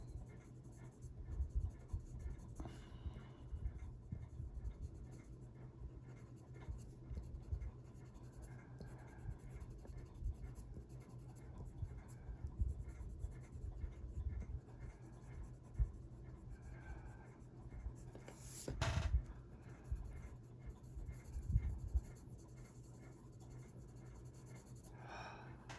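Colored pencil shading a greyscale coloring page, a steady soft scratching of the lead on paper that runs close and continuous, with brief pauses and faint breaths.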